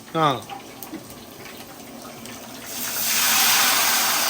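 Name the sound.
water poured into a pot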